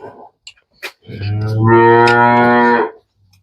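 A pregnant cow lets out one long, loud moo close by, lasting about two seconds, preceded by a few soft knocks and shuffles.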